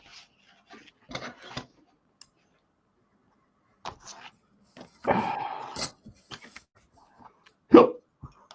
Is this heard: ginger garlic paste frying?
no